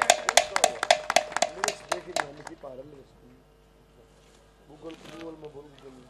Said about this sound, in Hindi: अमित मलिक जी के लिए जोरदार तालियों से स्वागत किया जाए